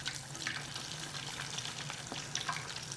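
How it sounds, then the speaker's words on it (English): Zucchini meatballs crumbed in breadcrumbs fry a few at a time in a pan of hot oil, giving a steady close sizzle with soft bubbling and occasional crackles throughout, no talking. "You want to fry these until they're nice and golden all around."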